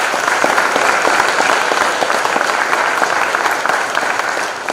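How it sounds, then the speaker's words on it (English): Sustained, dense applause from a large audience at a social justice speaking event, loud and steady for the full length with no talking over it. "give him another round of applause"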